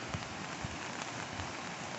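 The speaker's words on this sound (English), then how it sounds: "it had just started to rain, so I got my umbrella up" Steady rain patters densely on an umbrella and the surrounding ground during a hike on the Appalachian Trail near a waterfall, a continuous hiss with occasional louder drops.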